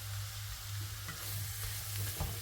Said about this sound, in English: I'm going to cook this until the lamb is nice and brown.